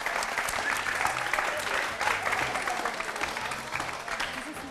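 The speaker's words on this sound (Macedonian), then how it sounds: "Да чуеме уште еден аплауз." A studio audience applauds steadily and fairly loudly, a dense wash of many clapping hands that holds for several seconds without letting up.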